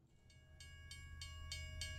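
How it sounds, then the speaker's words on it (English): An approaching train with rhythmic clicking pulses, regularly spaced and growing steadily louder over a low rumble, alongside a sustained tonal whistle line, moderately faint overall. "we hear the sounds of a train approaching, as well as a train whistle going off"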